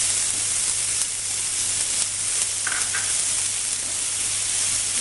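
Ginger added to a hot frying pan gives a continuous close sizzle with a broad hiss that stays even throughout, accompanied by a faint low hum.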